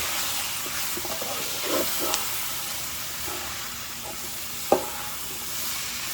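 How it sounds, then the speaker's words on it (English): Mushroom spaghetti sauce seasoned with salt and pepper sizzles steadily in a pan, with soft scraping stirs and one sharp clack of the utensil against the pan near the end. "Give that a stir."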